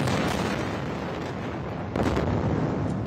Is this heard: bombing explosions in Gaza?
yes